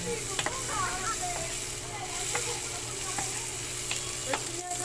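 Enoki mushrooms fry in a hot pan for Korean-style samgyeopsal, giving a steady, close sizzle with occasional crackles and pops throughout.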